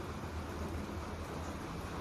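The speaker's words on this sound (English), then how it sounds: "Oh, it's just rain, kiddo." Steady rain falls in a cloud-forest setting at Monte Verde, Costa Rica, a soft continuous hiss with a low rumble beneath it, even and unbroken throughout.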